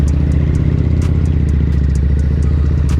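A Harley-Davidson V-Rod Muscle motorcycle runs with a loud, close, steady engine rumble and pulsing exhaust, plus faint ticking clatter and no talk.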